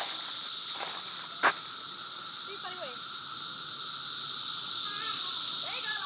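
Cicadas buzz in a continuous high-pitched drone throughout, with faint scattered chirps and a soft tap in the background.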